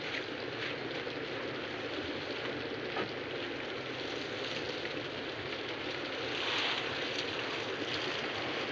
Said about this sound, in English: the storm had broken, and the rain had begun to fall.